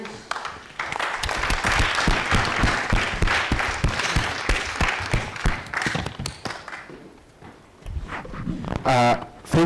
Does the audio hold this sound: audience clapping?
yes